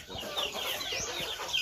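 A chicken clucks in a few short, soft calls over a faint outdoor background, heard fairly close and without speech.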